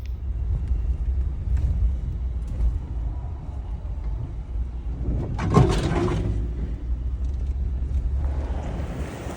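A pickup truck drives through South Texas brush toward a hunting blind, a continuous low engine and road rumble heard from inside the cab, with a brief louder clunk or rattle near the middle.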